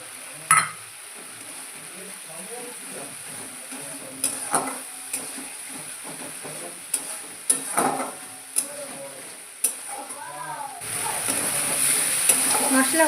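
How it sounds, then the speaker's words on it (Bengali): Tomatoes being stirred into spiced oil for a tilapia fish curry, a low sizzle under repeated scraping and knocking of a spoon against the pan, with brief faint talk. "এবার আমি দিয়ে দেব টমেটো।"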